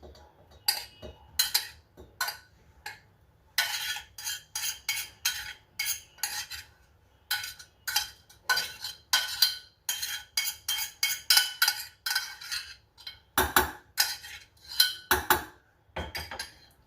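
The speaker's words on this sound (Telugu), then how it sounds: "ఈ కుక్ చేసిన వెజిటేబుల్స్ని దీంట్లో వేసేస్తున్నాను" Cooked vegetables are tipped and scraped into a pot with a spoon, giving repeated metallic clinks and scrapes in irregular bursts separated by short quiet gaps.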